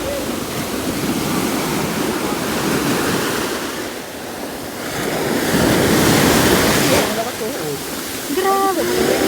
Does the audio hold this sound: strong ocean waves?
yes